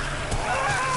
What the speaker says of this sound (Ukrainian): это какой-то гусь